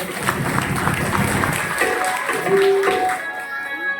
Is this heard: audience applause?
yes